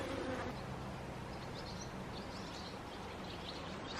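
Honey bees buzz around an open hive during a honey harvest, a dense, steady droning hum that fills the whole stretch at moderate loudness, with no talk.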